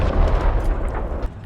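The 75mm sponson gun of an M3 Lee tank fires in War Thunder: a loud, deep boom with a rumbling tail that fills the short moment.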